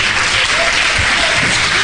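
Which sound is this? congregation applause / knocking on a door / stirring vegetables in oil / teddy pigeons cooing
congregation applause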